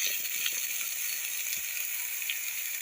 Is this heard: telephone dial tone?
no